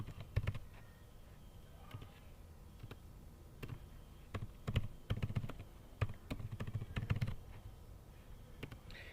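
Keys clatter on a computer keyboard as loan details are entered into a property management form, irregular bursts of close clicks with brief pauses, no voices.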